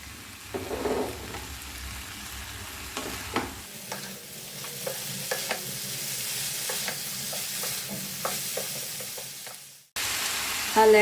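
Vegetables for paneer jalfrezi are stirred and fried in a pan, with a steady soft sizzle running under repeated scraping strokes of the spoon. The sizzle cuts out briefly near the end and then returns.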